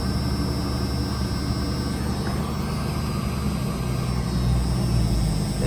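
A jeep engine idles steadily, a little rough, with a continuous low rumble and a whiny hum after a new alternator has been fitted, heard close up with no talking.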